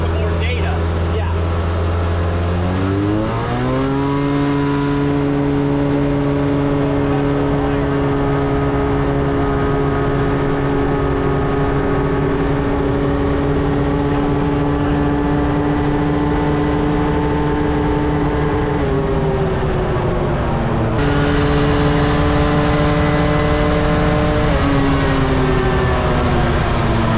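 A loud Speed UTV engine held at wide-open throttle on a dyno stays at high revs for a long stretch, rising in pitch early on and shifting briefly near the end, with no pauses.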